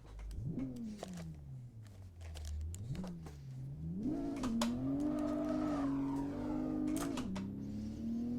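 Engine of a Toyota Supra with the 7M inline-six in the Assetto Corsa racing game, revving up and down through gears with rising and falling pitch, loud and close, alone without talk.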